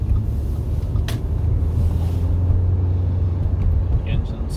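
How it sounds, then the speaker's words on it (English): A 2009 Audi A4 engine warms up while driving at night, giving a steady low drone with road and wind noise inside the cabin and a brief knock partway through. "The engine's slowly getting warmed up"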